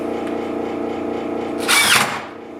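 A power drill drives a screw into a hinge on a wooden Shaker-style blanket box. A brief, bright whirring burst rises over a steady background hum and fades after under half a second.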